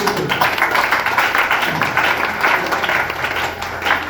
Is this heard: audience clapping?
yes